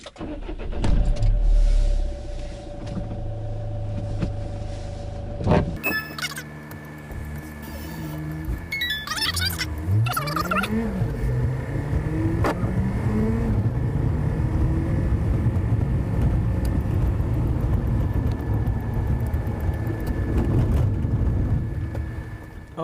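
A car driving toward a recycling warehouse, with a steady engine drone and road rumble heard from inside the car, a door-like thump and engine revving as it pulls away and accelerates.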